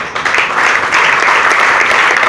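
An indoor audience at a prize-winner announcement breaks into loud, sustained applause, a dense, even roar of many hands clapping without pause.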